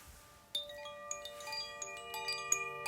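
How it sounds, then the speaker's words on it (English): Chimes ring out in a cluster of bright metallic strikes, their long shimmering tones overlapping and ringing on over a quiet background. "just like the sound of these beautiful chimes"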